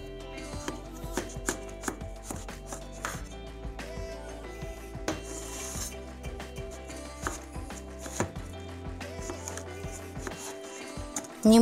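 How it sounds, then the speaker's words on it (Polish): A knife chops zucchini into cubes on a cutting board for a creamy zucchini and chicken soup, giving a run of quick, close, irregular cuts over steady background music. "Teraz z cukinii odetnę sobie końcówki i pokroję ją w kostkę."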